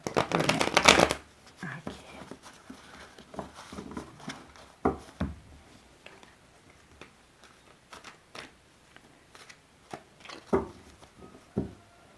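Tarot cards are shuffled close up in a burst of rapid riffling, followed by softer scattered taps and slides as the cards are handled and laid down, with a quiet voice present in the background.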